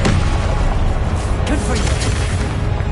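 Confringo spell explosions in the Hogwarts Legacy video game, dense loud booming and crackling blasts filling the whole stretch, with voices speaking over the combat noise.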